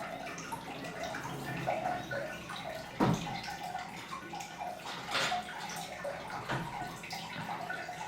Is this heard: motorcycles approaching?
no